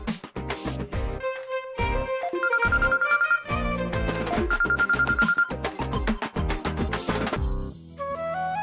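A telephone rings in a Telugu TV serial scene, sounding as a melodic, tonal ringtone that repeats steadily and loudly for several seconds before cutting off near the end.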